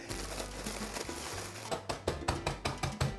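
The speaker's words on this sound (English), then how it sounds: "For the crust, we need a 7 ounces pack of galletas MARÍA IBERIA. Now we're gonna crush them" María cookies are crushed inside a bag for a guava cheesecake crust, making soft crinkling that becomes a run of sharp, rhythmic crunching taps, close and fairly quiet.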